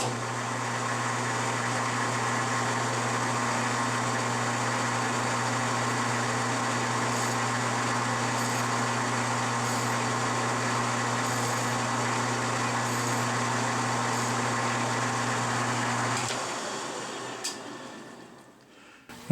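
A metal lathe runs steadily while cutting a slight chamfer on the end of a bearing adapter for a modified 620, giving a continuous, loud mechanical hum that stops near the end and fades out.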